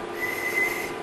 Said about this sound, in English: Their call is a piercing whistle on one note